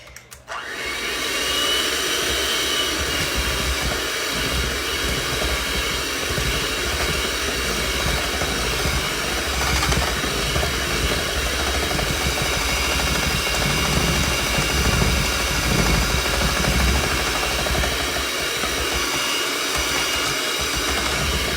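An electric mixer beats cake batter for a cinnamon roll poke cake, switching on abruptly and then holding a loud, steady whirring drone close by for about twenty seconds, with no talk over it.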